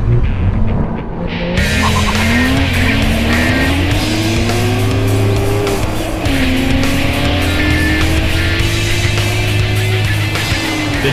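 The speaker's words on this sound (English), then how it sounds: "Now it's time for a drag race." Nissan GT-R and Porsche GT3 launching side by side in a drag race: a loud, close engine roar climbs through rising gear pulls, with a short shift dip partway through and sustained high revs to the end.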